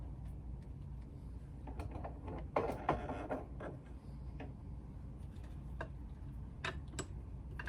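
A hand-cranked shoe stretcher form being turned open inside a shoe, giving a quiet run of small ratcheting ticks and clicks with a brief louder mechanical burst, fairly faint and close.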